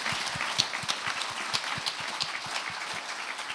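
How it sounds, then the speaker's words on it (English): A crowd at a talk on Gaza and fascism gives a brief round of clapping, fairly soft and distant, with individual claps audible within the spread of sound. "No, yes, that's worth a clap."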